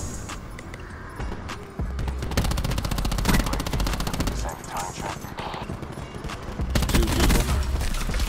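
Rapid bursts of automatic gunfire in the Black Ops 4 shooter game, loud and close, running in dense volleys with short pauses while players talk over it.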